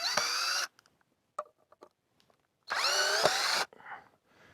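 A cordless drill drives screws into wood in two whining bursts, the second with a rising pitch, separated by quiet clicks and handling noises.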